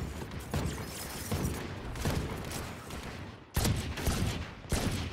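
Rapid game gunfire bursts crackle through a shooter match, dense and loud, broken by a brief pause before sharper volleys resume near the end.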